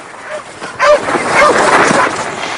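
Sled dogs yip and bark in a lively, overlapping chorus that carries through the whole stretch, fairly close and loud over a background hiss.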